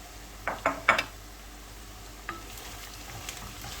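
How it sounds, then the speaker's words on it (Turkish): A few quick clanks and scrapes of a utensil stirring meat, garlic and peppers in a pan, then a quieter sizzling backdrop with occasional faint taps. "Birazcık da bunlarla birlikte sotelensin"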